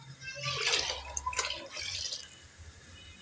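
Water pours into a pressure cooker holding soaked chickpeas, a close, splashing, burbling fill that rises and falls for a few seconds, then tapers off.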